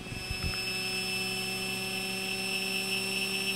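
A turbocharger spins at high speed on a bearing test stand under a 400-pound bearing load, giving a sustained whine with steady high tones over a continuous roar, loud and constant after a few faint knocks at the start.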